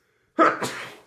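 A single sharp sneeze, loud and close, bursts out and then trails off in a breathy tail, with no other sound around it.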